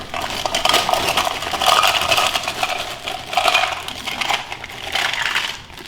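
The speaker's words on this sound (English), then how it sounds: "I'm going to put 4 cups of my ice into my large Ziploc bag" Ice cubes poured into a large Ziploc bag, a continuous clattering, crunching rattle of cubes tumbling against plastic for several seconds, close and fairly loud, with no talking.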